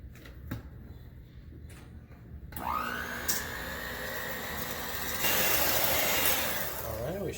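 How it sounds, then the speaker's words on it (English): An electric stand mixer starts up after a few clunks and whines into a loud, steady whisking drone as it beats meringue to stiff peaks for a key lime pie, growing louder toward the end. "it's gonna get loud and noisy while this whisks up into a nice stiff peak meringue"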